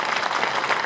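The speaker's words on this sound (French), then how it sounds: "On vous applaudit bien fort." Audience at a 2020 New Year's greetings ceremony breaks into a brief, dense burst of clapping, steady and fairly loud throughout the short moment.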